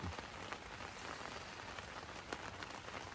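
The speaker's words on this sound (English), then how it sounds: "it's been raining and raining and raining and raining and raining" Steady rain falling on a surface on a backpacking trail loop through a mountain pass, a soft dense patter with occasional louder drops, continuous and fairly quiet.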